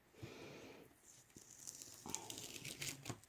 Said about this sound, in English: Now I'm going to trim this up a little bit.